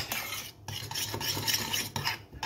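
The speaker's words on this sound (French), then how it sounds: "Là, on mélange le tout." A mixture is stirred in a pan over medium heat, with rhythmic scraping and clinking of a utensil against the pan and a faint sizzle underneath, close up and without speech.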